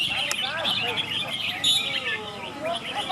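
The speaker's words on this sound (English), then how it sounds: "So those are the birds in the cages, and here are the bird owners trying to get their birds to sing the most times" Caged songbirds at a bird singing contest in Padang Besar trill and chirp in quick, overlapping bursts, fairly close, with crowd voices murmuring underneath.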